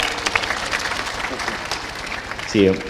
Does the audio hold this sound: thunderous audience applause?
yes